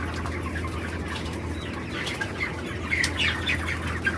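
Chickens flap their wings on a poultry farm with modern controlled sheds, birds about 26 days old, a steady soft rustle of wings and scattered clucks over constant fan hum, with a louder burst of flapping near the end.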